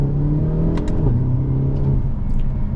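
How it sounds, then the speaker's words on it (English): A 2025 Hyundai Elantra N engine hums steadily at close range in manual mode, rising slightly in pitch, with a few faint crackling pops near the exhaust. "You get a couple little pops from the exhaust"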